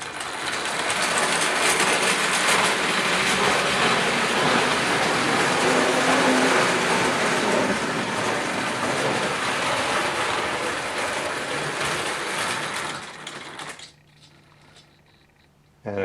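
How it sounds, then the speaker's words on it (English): A vintage Marx wind-up toy locomotive with its original governor runs fast, giving a loud continuous whirring rattle of gears and clattering wheels that carries on for over thirteen seconds, then abruptly cuts off into quiet. "it's a wind-up locomotive, so it will run pretty fast too"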